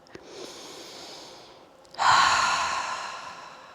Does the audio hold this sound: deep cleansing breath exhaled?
yes